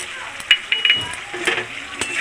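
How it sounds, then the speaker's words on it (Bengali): Ground spices and chopped tomato frying in a pan for a vegetarian moong dal and eggplant dish, with a soft steady sizzle under repeated clinks and scrapes of a spoon stirring against the pan. "ভালো করে এবার কষিয়ে নেব মশলা কষাতে কষাতে এবার কাটা টমেটোও দিয়ে দিলাম"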